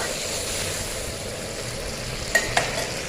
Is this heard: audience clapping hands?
no